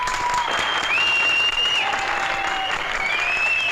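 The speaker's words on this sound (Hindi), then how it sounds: "एक बार जोरदार ताली।" A crowd applauds a stunt performer who has leapt into water after being set on fire, with steady, dense clapping throughout and a few shrill whistles riding over it.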